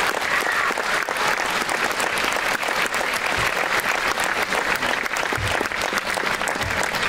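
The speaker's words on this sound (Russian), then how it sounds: "аплодисменты" Concert audience applause for the Loktev Song and Dance Ensemble's anniversary performance, a loud sustained roar of many hands clapping, dense and steady throughout.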